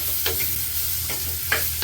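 Dried red chilies, shallots and fenugreek seeds sizzle and crackle steadily in hot oil, close by, with a few brief scraping stirs of a spoon through the pan.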